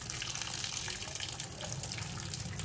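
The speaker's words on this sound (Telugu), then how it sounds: "హాఫ్ బాయిల్ చేసేసి వాటర్ మొత్తం తీసేసేయాలి" Water drains off half-boiled potato slices being prepared for homemade chips, a soft continuous pouring trickle heard close with no talk.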